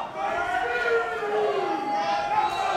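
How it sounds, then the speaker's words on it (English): A wrestling crowd in Hollywood cheers and shouts for Fred Rosser, a steady, dense roar with rising chant-like voices throughout, while a commentator talks over it. "Rosser here being hyped up by the crowd here in Hollywood."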